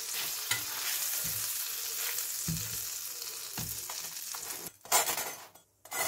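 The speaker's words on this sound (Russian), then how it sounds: "этот тостерный хлебушек немного обжарю" Toast bread frying in a pan while preparing a salad with arugula, asparagus and shrimp, giving a steady close sizzle with occasional stirring scrapes and a brief louder clatter near the end.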